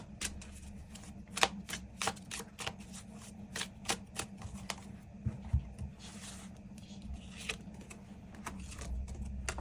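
Tarot cards are shuffled close up, producing a series of crisp riffling snaps and soft slaps in an irregular rhythm over a quiet room hum.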